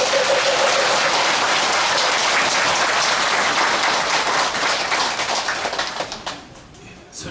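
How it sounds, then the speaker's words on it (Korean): A large crowd applauds at a Buddha's Birthday celebration at Gilsangsa temple, a dense, steady roar of clapping that holds strong for several seconds and then thins and fades toward the end. "불자님들도 부처님처럼 살아가며 실천하겠다는 화답의 박수를 다시 한번 부탁드립니다"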